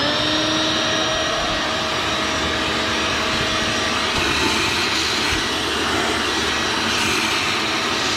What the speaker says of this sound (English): I'm gonna go ahead and use my shop vac.